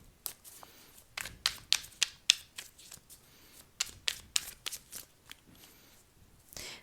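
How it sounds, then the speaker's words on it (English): Tarot cards riffled and slid out one by one, a run of crisp, close papery snaps and flicks in an uneven rhythm with short pauses between bursts, with no talking. "Pulling out 12 cards starting from January to December."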